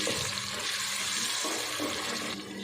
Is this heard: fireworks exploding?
no